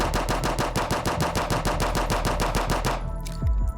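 Rapid automatic gunfire from a close-range weapon in the shooter game Combat Master, a fast even burst of loud, close shots for about three seconds before it stops abruptly.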